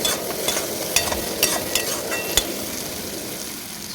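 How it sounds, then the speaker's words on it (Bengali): Spiced potato and pea curry being stirred in a pan, with a steady sizzle of frying and a few sharp scrapes and taps of the spoon against the pan in the first half. "এবার আমি ভালোভাবে নিয়ে নিব এটাকে যাতে মশলার গন্ধটা না থাকে সেই জন্য একটু নেড়ে নিতে হবে"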